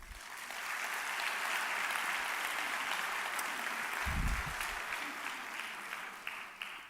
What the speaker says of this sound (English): Please join me in recognizing them with a big round of applause